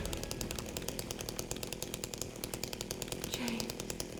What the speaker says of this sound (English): Can you get her with the chainsaw?